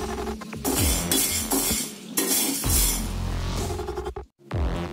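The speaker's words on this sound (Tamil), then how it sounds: "இப்போ இதில் கடலைப்பருப்பை போட்டு எண்ணெய் ஊற்றாமல் பொன்னிறமாக வறுத்து எடுத்துருவோம்" Chana dal dry-roasted without oil in a hot pan, the lentils rattling and clinking against the metal under steady stirring, close and fairly loud with a brief pause near the end.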